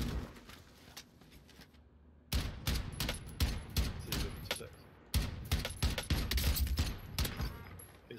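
Rifle fire in a shooter during a rooftop sniping fight: after a quiet lead-in, loud sharp shots burst out in clusters, with bolt-like metallic clicks between them and a few distant cracks.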